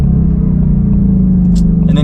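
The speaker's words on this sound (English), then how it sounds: "It's just so fun to like brake pretty hard, crack off the downshifts" A loud, close Shelby Mustang engine drone rumbles steadily as the car drives, with a deep throaty tone and a brief higher blip on a downshift near the end.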